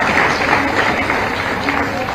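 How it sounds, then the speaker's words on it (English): An audience at a college youth parliament event gives a round of applause, a dense steady clapping that fills the whole short stretch without pause. "we should give a big round of applause to the faculty as well"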